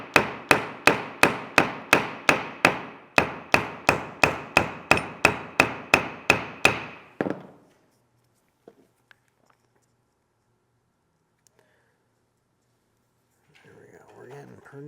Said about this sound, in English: Kind of hitting and dragging just a little bit with that hammer.